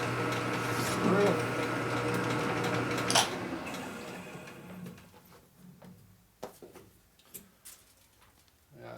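A drill bores through a motorcycle part on a custom Harley chopper, grinding steadily for a few seconds before breaking through. Scattered clinks and handling noises follow under quiet talk.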